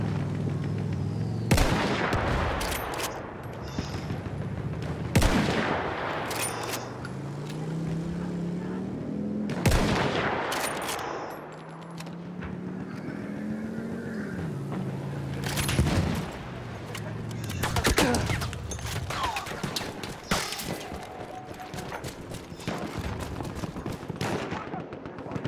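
Battlefield 1 multiplayer battle with repeated loud gunshots and booming artillery-like blasts, scattered irregularly over steady battlefield noise, with some voices.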